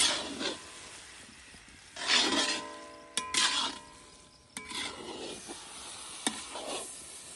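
A thick carrot gajrela mixture is stirred in a pan, producing intermittent scraping and rubbing strokes with short gaps and a few sharp clicks of the utensil, fairly quiet and close.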